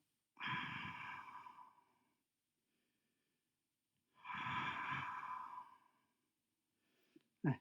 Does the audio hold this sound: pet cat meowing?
no